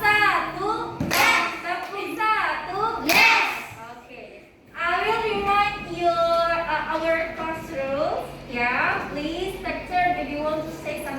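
Children in a classroom lesson give a couple of sharp, loud claps in unison, woven into their own lively chanting and chatter throughout.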